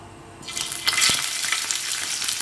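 Hot oil in a pan for shallow-frying prawns bursts into a bright, crackling sizzle after a quiet moment, then keeps spitting steadily close by.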